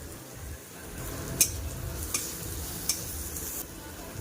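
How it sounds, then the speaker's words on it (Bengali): Chopped onion and green chili with salt and turmeric fry in a pan while being stirred, giving a steady sizzle broken by a few sharp utensil scrapes against the metal. "এবার নাড়াচাড়া করে খুব ভালোভাবে ভাজা করে নেব"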